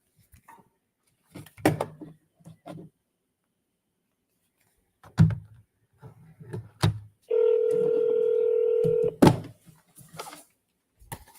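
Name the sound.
telephone number being dialed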